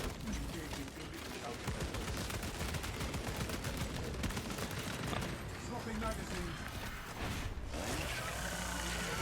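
Rapid auto bolt rifle fire from a Space Marine in Warhammer 40k, a dense continuous volley of loud shots running the whole time under game noise and speech.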